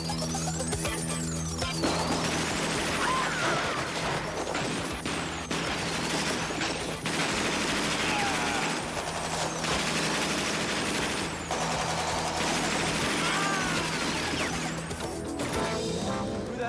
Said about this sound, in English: Who the hell's firing, man?